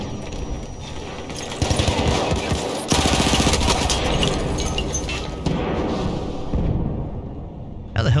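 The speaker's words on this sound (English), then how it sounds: "He's just blind firing through the smoke." Dense, sustained gunfire and explosions in Battlefield 1 during a chaotic Conquest match at Fort De Vaux, loud continuous rattling bursts layered with blasts and battle noise.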